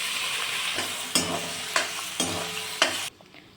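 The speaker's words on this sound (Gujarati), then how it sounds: "હવે એ જ આપણે તેલમાં આપણે એક કપ જેટલી ડુંગળી ને અડધા કપ જેટલા હું ટમેટાં એડ કરીશ" Onion and tomato frying in hot oil for a restaurant-style cashew paneer masala: a steady, close sizzle broken by four sharp stirring scrapes, then it cuts off abruptly.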